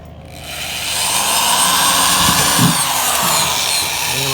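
A power drill runs steadily, opening up marked holes for dash fasteners during a dashboard install in a 2007 Mustang, a continuous whirring drone lasting several seconds with no talking.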